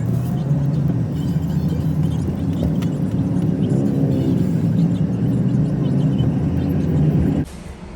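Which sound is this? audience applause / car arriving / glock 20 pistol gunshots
car arriving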